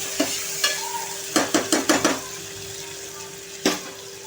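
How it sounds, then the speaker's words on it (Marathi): Chopped tomato sautéed in a pan for liver fry, with steady faint sizzling under a series of sharp spatula stirs and scrapes against the pan, clustered in the middle and one more near the end. "आता हा टोमॅटो आपण छान परतून घ्यायचा आहे 2 मिनिटं"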